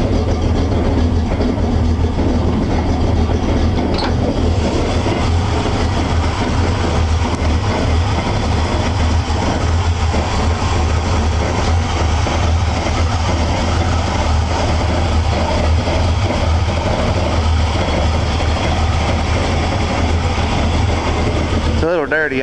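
A 1971 Chevy engine idles after a cold start with a steady, loud, rumbling drone, close by, with a voice talking over it throughout.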